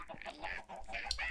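Minecraft chickens in a breeder setup give short, soft clucking calls close together, a few quick bursts over a low background.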